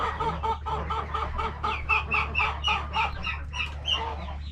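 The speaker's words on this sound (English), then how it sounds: "There's a couple chickens out." Several chickens cluck inside a coop in a steady run of close, repeated, throaty calls over a constant low hum, with no voices.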